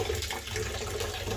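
Water running and trickling from a joined garden hose outdoors, a steady close splashing flow that continues without a break.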